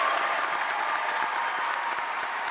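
A large audience at the Scripps National Spelling Bee finals applauds a finalist with steady, dense clapping that holds at an even level throughout, with no voices over it.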